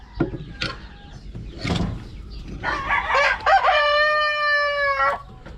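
Dekalb Brown chickens in a roomy coop give a few sharp clucks and squawks, then a loud, drawn-out crow rings out close by, with light rustling between calls.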